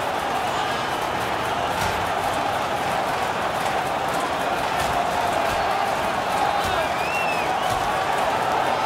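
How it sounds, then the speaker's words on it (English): A hockey arena crowd in NHL 21 roars and cheers on their feet during a St. Louis Blues versus Chicago Blackhawks rivalry game, a steady, dense wall of crowd noise with faint whistles throughout. "And the crowd on their feet."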